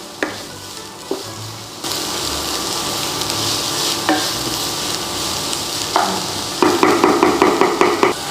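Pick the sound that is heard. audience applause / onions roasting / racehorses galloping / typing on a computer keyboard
onions roasting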